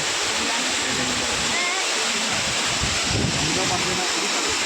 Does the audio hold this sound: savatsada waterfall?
yes